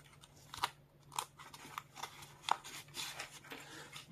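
Paper creased and pressed flat into an origami squash fold, giving a few quiet crisp crinkles and soft taps spaced about a second apart, close and faint, with no talking.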